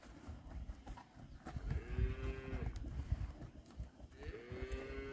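Dairy cows for sale, averaging 25 kg of milk a day, moo twice in a farm pen: one long low call in the middle, another near the end, over a busy bed of shuffling livestock noise.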